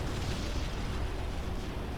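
An enemy aerodyne blowing up in the game Ground Control, heard as a steady, rumbling explosive roar with crackling bursts that holds at moderate loudness with no voice over it.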